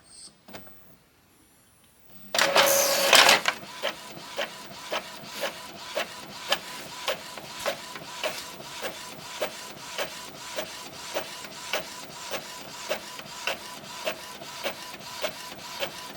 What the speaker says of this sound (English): We're going to head on over to the printer so that we can get that printed out.